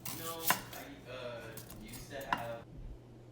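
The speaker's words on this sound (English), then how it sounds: "So here I'm just going to chop up the onion into slices." A knife slicing an onion on a cutting board, giving two sharp, distinct chops about two seconds apart over a quiet kitchen background with soft talking.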